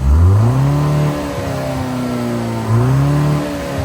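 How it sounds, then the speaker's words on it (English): A 2025 BMW X1 M35i engine revs up twice in quick succession, loud and close, each rising sweep in pitch followed by a brief settle before the second surge. "although on the outside this engine doesn't necessarily sound the most aggressive."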